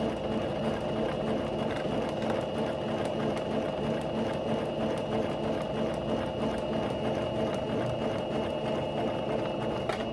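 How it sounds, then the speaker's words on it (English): Sewing machine back stitching ribbon onto a tutu skirt, a steady close mechanical whirring hum with rapid needle ticking running continuously for ten seconds, no talking. "We're going to go ahead and back stitch so we can lock it into place."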